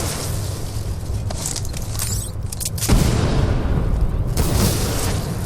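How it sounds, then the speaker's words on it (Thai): Explosions rip through Titanfall 2 gameplay, a dense roar of booming blasts and rapid firing with a heavier burst near the middle, loud and continuous throughout. "ก็รู้ทั้งรู้มันจะระเบิดนะ"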